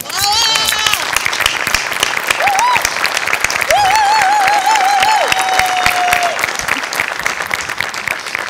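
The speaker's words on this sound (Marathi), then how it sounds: "सचिन गोस्वामींसाठी उभं राहून टाळ्या वाजव." Loud, dense applause from a comedy-show studio audience on their feet, sustained across the whole stretch, with musical tones and stings playing over the clapping.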